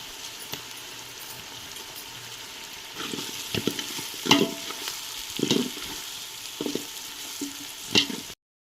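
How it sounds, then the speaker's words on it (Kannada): Ingredients fry in oil during home cooking for a Satyanarayana puja, a soft continuous sizzle punctuated by louder scraping bursts as the mixture is stirred, fairly quiet and close. "ಇದೆಲ್ಲ ಚೆನ್ನಾಗಿ ಫ್ರೈ ಆಗಬೇಕು ನೋಡ್ರಿ ಎಣ್ಣೆ ಒಳಗೆ"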